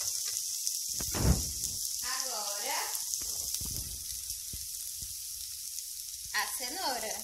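Grated carrot dropped into a hot pan for a sweet-and-sour carrot farofa, giving a steady close sizzle with bursts of frying as it is stirred, while a person talks over it.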